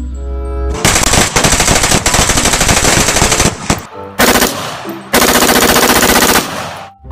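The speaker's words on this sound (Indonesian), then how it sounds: "Widih, ada tembakan combat gun." Loud, rapid bursts of automatic gunfire from a video game combat gun crackle in long sustained volleys, broken by short pauses, with game-style sharp shots throughout.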